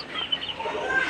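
Native desi hens cluck and chirp faintly at a middle distance over a soft farmyard background, in brief high notes with no talk.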